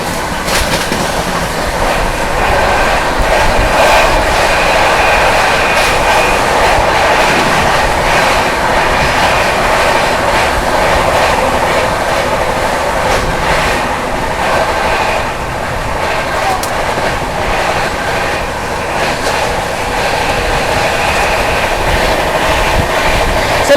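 The 12487 Jogbani–Anand Vihar Seemanchal Express rolls through near Shikohabad with a loud, sustained rumble and steady clickety-clack of wheels over rail joints, heard close from on board or trackside for the whole stretch.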